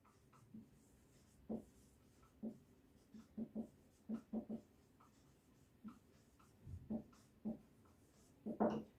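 Chalk or marker taps and short strokes on a board during a physics lecture, sparse and faint, arriving in small irregular clusters against a quiet room.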